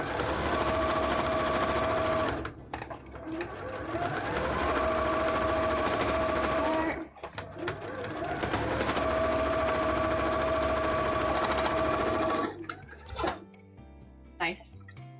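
Sewing machine top stitching cosplay fabric, a steady, loud mechanical whir running in three long bursts separated by short pauses, with people talking underneath.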